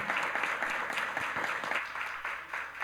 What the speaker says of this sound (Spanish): Invitamos a ofrecer un fuerte aplauso